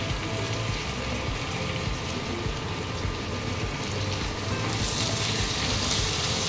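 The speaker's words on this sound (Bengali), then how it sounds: "এখানে চিমনি চলছে, তাই তোমাদের হয়তো একটু" A home kitchen chimney exhaust hood runs continuously with a loud, even whooshing hiss, alone and without talk.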